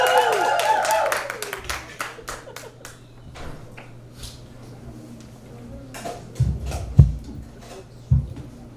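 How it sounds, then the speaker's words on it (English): A small comedy-club crowd claps for a comedian coming on stage. A short burst of clapping fades into sparse, scattered claps, with a few thuds and a voice speaking over it. "Clap it up, folks."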